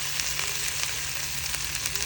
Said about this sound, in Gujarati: આપણે જે આદુ મરચાં વાટેલા છે એ આમાં એકથી 2 મિનિટ જેટલું આપણે ચડવા દઈશું